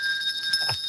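A hand bell rings during a podcast recording, giving a short, bright, sustained metallic tone with a small strike near the end, heard alone without talk.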